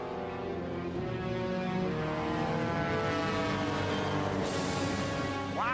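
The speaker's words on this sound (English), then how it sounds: "Dive bombers, attack!" Cartoon dive bomber planes on the attack, a loud continuous propeller-engine drone with a rising whine near the end.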